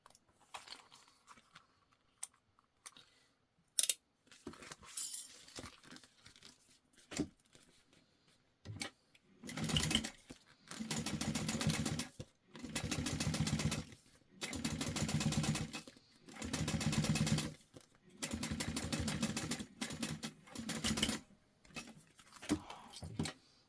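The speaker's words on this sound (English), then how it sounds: "And then we're going to fold this open and top stitch it." A sewing machine top stitches a jelly vinyl pouch in repeated bursts of rapid mechanical whirring separated by quiet pauses, with scattered clicks and handling taps earlier.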